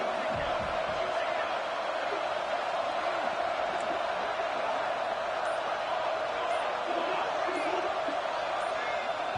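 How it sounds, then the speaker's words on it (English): A stadium crowd roars loudly in the NCAA 26 college football video game, a dense unbroken wall of cheering noise that holds steady throughout. "with this place rocking, the crowd forces a false start"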